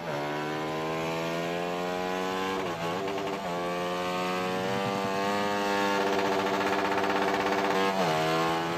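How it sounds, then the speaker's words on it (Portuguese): A Honda Titan 160 motorcycle engine roars loudly and continuously close by, revving up and down with a few sharp throttle blips. "A moto tá berrando demais"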